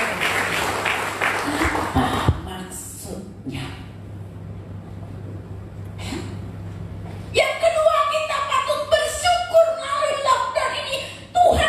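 A short round of clapping from a church congregation at a Sunday worship service in Mangga Dua. It fades within about two seconds, and a voice then speaks with scattered chuckles.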